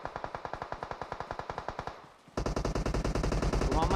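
Automatic gunfire from PUBG Mobile rattles in a rapid string of evenly spaced shots, pauses briefly, then resumes as a louder, faster burst.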